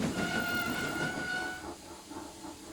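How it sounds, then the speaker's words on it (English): A small green steam tank engine puffs along in a railway yard, with a hissing of steam and a faint whistle-like tone over soft chuffing, moderately close and fading slightly after a moment. "a small green tank engine puffed up"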